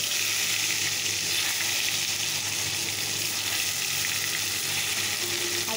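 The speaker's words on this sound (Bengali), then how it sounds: "তো চলো আগে পটলগুলোকে ভেজে নেই" Pointed gourd frying in hot oil in a wok gives a loud, steady sizzle that runs unbroken from start to finish, with no voices.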